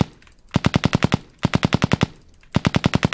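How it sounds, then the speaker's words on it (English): Three quick bursts of rapid automatic gunfire in the video game Roblox, each a tight string of sharp shots separated by brief pauses, loud and close. "They heard our gunshots."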